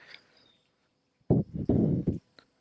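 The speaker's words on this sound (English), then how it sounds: "Tap your heels into the ground." Heels tap the ground during a gentle qigong session, a few soft, close thuds in an uneven cluster after a quiet pause, with no one speaking.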